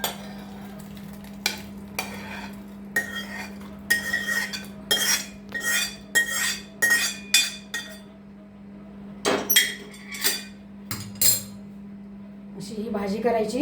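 Soya chunk curry is scraped and poured from one pot into another, giving a run of close metallic clinks and scrapes in irregular bursts over a low steady hum.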